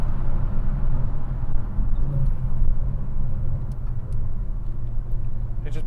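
A tuned Ford Focus ST driving, heard from inside as a steady low engine rumble and road drone that stays loud and constant throughout, with no talking.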